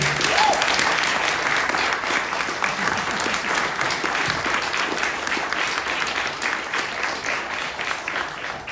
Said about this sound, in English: So let's have a round of applause for Dave.